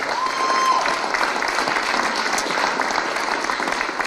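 An audience at a Stratford veterans event applauds the Honor Guard, sustained loud clapping from a large crowd with a few whistles and stray voices mixed in, steady and slowly easing toward the end.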